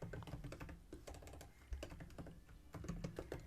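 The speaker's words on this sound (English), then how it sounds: "let me type some message here." Fast typing on a computer keyboard while writing Kotlin code, a dense run of close, crisp key clicks and thocks in uneven bursts, with brief pauses between words.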